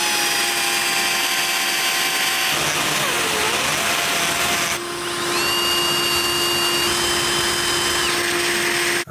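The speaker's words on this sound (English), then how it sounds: "I'm going to have a shop vac going at the same time so we don't run any risk of getting metal where it's not" A shop vacuum runs steadily in a workshop while a hole in a fully assembled twin-turbo Mercedes V12 engine is ground out, a loud continuous whine with shifting tones, briefly dipping and then droning on alone.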